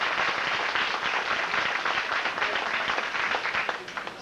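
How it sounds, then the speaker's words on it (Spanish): Steady crowd applause at a 1992 Puerto Rican parade, dense continuous clapping throughout with a faint voice in the mix, easing slightly near the end. "El aplauso para él."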